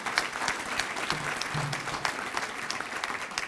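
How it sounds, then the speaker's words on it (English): Audience at the Chicago Auditorium Building's 125th anniversary celebration, applauding a newspaper writer, with sharp individual claps near the listener over a steady crowd wash and a brief low murmur. "Give him a round of applause."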